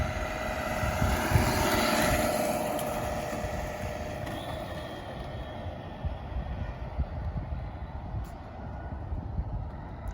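A Tamiya radio-controlled flatbed truck drives outdoors, its small electric motor whining steadily through gear changes over broad rumbling ground and wind noise that slowly fades, with no talking.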